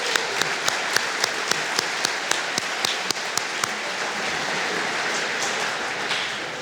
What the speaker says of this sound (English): Please applaud all of our sponsors.